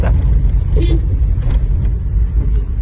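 A car or similar motor vehicle passes close by on a road, its loud engine rumble running steadily through the short stretch, with a voice talking over it.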